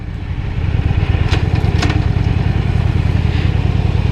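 A motorcycle rides on a bumpy road, its engine loud and close as it pulls hard through roughly three gear changes, with brief rises in pitch over a steady rumbling drone and wind.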